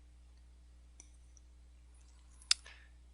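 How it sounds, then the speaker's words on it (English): A single crisp computer mouse click sounds faintly in a quiet room, with a softer tick about a second and a half earlier over low electrical hum. "So click on that link, click on this button"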